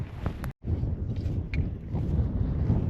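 Gusty wind blows across a farm in spring, roaring and buffeting the microphone in a continuous low rumble with a brief dropout and a few faint higher-pitched sounds.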